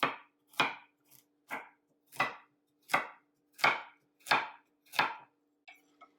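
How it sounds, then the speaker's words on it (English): A knife chops a carrot into large chunks on a cutting board, giving about nine sharp, evenly spaced knocks close by, with a few smaller taps at the end and no talking. "we're just going to cut this carrot into large chunks"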